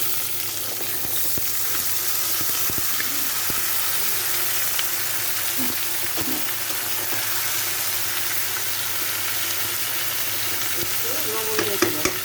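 Peanuts and vegetables sizzle and crackle in a hot pan with occasional stirring scrapes, a steady close, loud hiss that continues for the whole stretch without any talk.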